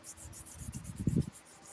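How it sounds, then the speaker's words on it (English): Steady wet rubbing and rasping of wet sandpaper over a yellowed plastic car headlight, back-and-forth strokes growing a bit louder midway, close up with no talking. "why are we sanding the headlight"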